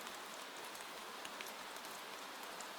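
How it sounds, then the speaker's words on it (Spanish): Gentle rain falling on tree leaves, a soft continuous hiss dotted with faint individual drop ticks, steady and quiet throughout with no voices. "una suave lluvia cae a tu alrededor. Las gotas golpean las hojas de los árboles"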